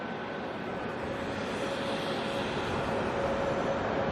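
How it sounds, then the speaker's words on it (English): An ATR turboprop airliner approaching to land at Auckland Airport, a steady broad engine roar holding at even loudness from start to finish, with no talking over it. "That ATR coming in from the hometown over there of Rotorua."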